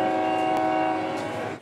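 A train at the new Kippa-Ring station on the Redcliffe line gives a sustained tonal horn blast. It sounds loud and close, then fades at the end.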